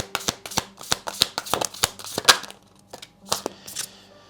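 Tarot cards being shuffled by hand, a close run of quick papery riffles and flicks in uneven bursts, briefly pausing before a few final slaps of the deck.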